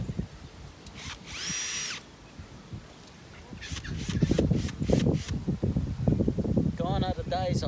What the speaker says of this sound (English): Gone are the days of a hammer and pegs, cordless drill and screws.